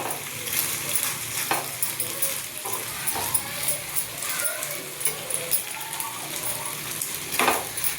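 Pasta being stirred into tomato sauce in a pan, a soft steady sizzle with scraping and clinks of a utensil against the pan throughout, close and moderately loud.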